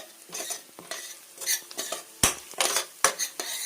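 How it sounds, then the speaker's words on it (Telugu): Egg curry stirred in a frying pan with a metal spoon, giving repeated close scrapes and clinks against the pan over a light sizzle, in uneven strokes. "దీన్ని ఇప్పుడు మనం కలుపుకోవాలి."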